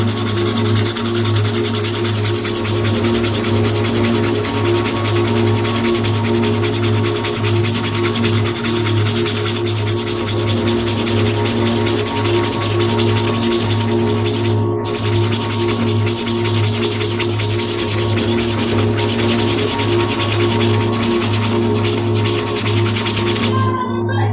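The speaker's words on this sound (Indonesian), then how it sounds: "Lalu kita ambil air, lalu kita gosok kembali seperti ini sobat" A cloth scrubbed back and forth with water over an ink stain on a bag, a steady continuous rubbing close up for the whole stretch, with a low hum underneath and no voices.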